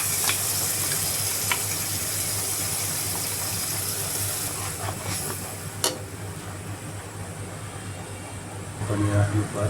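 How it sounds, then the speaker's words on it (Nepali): Fish masala with ground tomato and turmeric frying in a pan for a village-style fish curry, a steady close sizzle throughout with occasional clicks of stirring. "मसलालाई त्यसमा मजाले फेरि फ्राई गरौँ"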